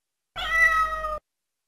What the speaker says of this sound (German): die Katze